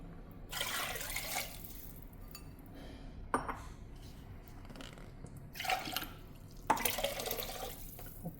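Water splashes into a cooking pot of tomato biryani in several short pouring bursts, with light clinks of the pot between them. The sound is close and quiet, with no talking.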